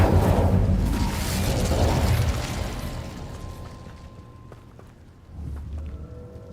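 Fire spell being cast in the Hogwarts Legacy video game, a loud whooshing burst that fades gradually over several seconds, followed by a softer rumbling swell near the end.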